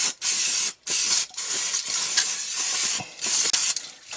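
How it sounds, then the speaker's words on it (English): Standard brake cleaner sprayed from an aerosol can onto Suzuki GT550 four-leading-shoe brake parts, several close hissing bursts separated by short pauses. "then afterwards just use a standard brake cleaner"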